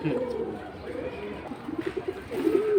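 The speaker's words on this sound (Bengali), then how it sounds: "এইটা হচ্ছে একটা অন্যরকম টাইপের কবুতর" An unusual breed of domestic pigeon coos in low, rhythmic pulsing bursts up close, with murmured human voices in the background.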